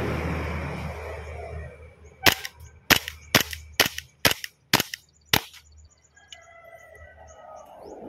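Seven sharp gunshots ring out at about half-second intervals during target shooting at 5 meters, each a loud crack with a short tail, with birds chirping faintly in the background before and after.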